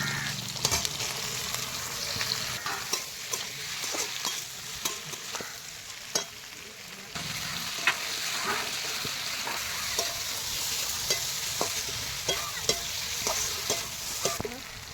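Marinated koel bird meat fries with onion, peas and capsicum, a dense continuous sizzle broken by frequent spoon stirs and scrapes against the pan, close and steady throughout.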